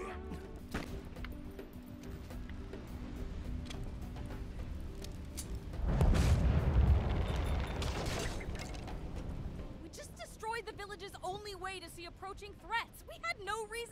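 An explosion in the fantasy shooter Tiny Tina's Assault on Dragon Keep, a loud rumbling blast that swells and roars for a few seconds, with people talking and laughing over the game before and after.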